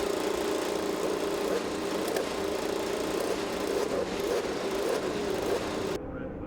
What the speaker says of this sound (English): Cars are on the track for the Grand Prix of Indianapolis